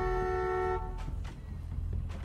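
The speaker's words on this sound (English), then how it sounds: "Honk the horn." Pickup truck horn in The Walking Dead video game, a loud sustained honk lasting under a second, followed by scattered thuds and rumbling game sounds.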